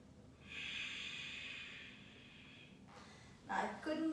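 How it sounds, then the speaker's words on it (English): A slow exhaled breath during a seated yoga posture, a soft steady hiss lasting a couple of seconds, followed by quieter breathy sounds and a brief sharper intake, close and intimate in a quiet room. "exhale."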